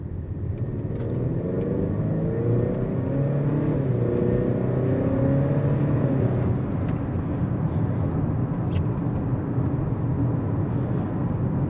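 Turbocharged car engine revving in sport mode through a 10-speed automatic, a loud, steady low rumble that climbs and swells in pitch as it accelerates, with faint higher whine on top.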